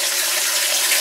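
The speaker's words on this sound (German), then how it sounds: "den lassen wir jetzt zur Hälfte volllaufen mit warmem Wasser" A container for rendering beeswax from honeycomb fills with warm water from a tap, a steady loud rushing hiss of flowing water with no break.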